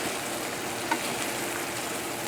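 Chicken thighs with peppers and heavy cream being stirred in a pan, a steady soft sizzle and bubbling hiss with faint scraping, continuous and close, no voices.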